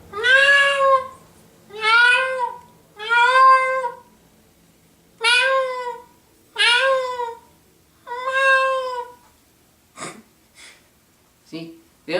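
A person imitates a cat's meow with the voice, giving seven clear drawn-out meows in a steady rhythm, followed by a few short breathy snorts and gasps near the end.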